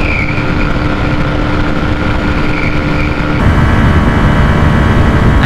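A Bajaj Pulsar N125 and a Hero Xtreme 125R motorcycle in a drag race, their engines roaring loud and continuous with constant wind rush, recorded from a moving bike with no pause in the noise.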